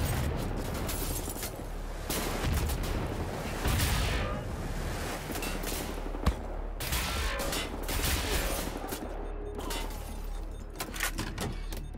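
Rapid gunfire from a first-person shooter, Wolfenstein: The New Order, crackling in dense bursts over a steady rumble during a firefight with a rocket-launcher enemy, loud and continuous with sharp impacts throughout.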